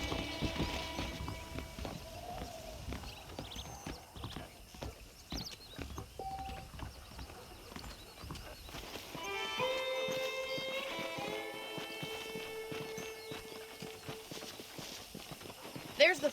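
Hooves clip-clop at a steady walking pace with a horse snorting in the video game Red Dead Redemption, while people talk over it in the background.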